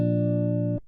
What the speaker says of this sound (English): Because without, our guitar would sound like this.